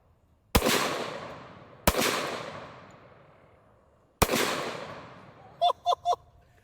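Black powder rounds fired from a modern firearm's magazine: three loud, sharp reports spaced apart, each with a long rolling decay, followed by a quick burst of short honking squeaks near the end.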